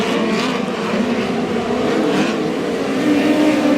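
Midget race cars in a POWRi West Midget League event at Humboldt Speedway roar steadily around the dirt track, a loud continuous engine drone with rising revs as the pack runs the back stretch.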